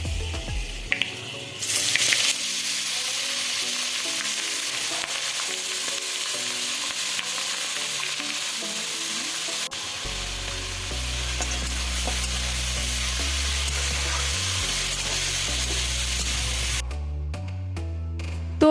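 Cut pointed gourd is tipped into hot oil with dry red chilli and whole-spice tempering, and it fries with a loud, steady sizzle and a spoon stirring against the pan.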